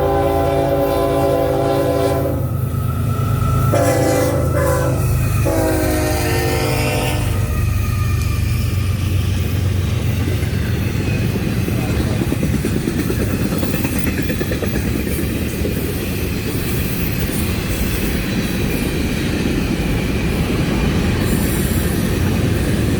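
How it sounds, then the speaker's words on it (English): Loud freight train passes close by, a hotshot intermodal carrying manifest cars, opening with a long multi-tone horn blast and then a steady rumble and clatter of wheels and cars rolling past, with occasional squeals, no voices. "it's just a hotshot intermodal train. But not today, it has Manifest"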